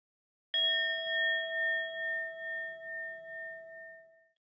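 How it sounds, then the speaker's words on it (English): A single meditation bell is struck once and rings out clearly with a bright, pure tone that slowly decays over several seconds with a gentle wavering pulse, alone in silence. "Here comes first bell."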